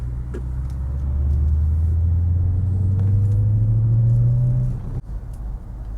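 A British MG ZT260 V8 sits idling at traffic lights, its deep, steady engine rumble loud and close for about five seconds before a sudden thump and a quieter tail.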